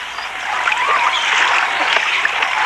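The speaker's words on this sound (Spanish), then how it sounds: "Nuestro equipo de filmación tuvo que abrirse paso a través del agua podrida de los canales cubierto basalto." Film crew wading through rotten water in basalt-lined canals, a steady, close splashing and sloshing of water that continues without a break throughout.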